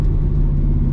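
A Mercedes C55 AMG with a tuned engine and six-speed manual gearbox spins its wheels, giving a loud, steady, close engine drone for about a second.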